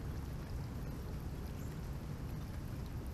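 Rainwater from a commercial building's gutters drains through a PVC drainage pipe, a steady, unbroken rushing and trickling wash held at a low, even level throughout, with no voices.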